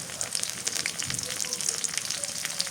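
Chili paste hitting a hot pan for a Bangladeshi curry crackles and sizzles steadily up close, a continuous frying hiss with small popping spatters throughout.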